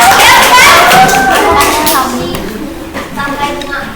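A burst of clapping from a group of children in a classroom, bright and busy, mixed with a teacher's speech in Indonesian over the applause.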